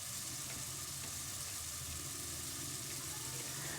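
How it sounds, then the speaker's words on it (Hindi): Masala for a brain masala (bheja fry) frying in a pan, a steady, even hiss and sizzle with no pauses, with no voices heard. "तो ये मसाला बहुत अच्छे से भुन गया है"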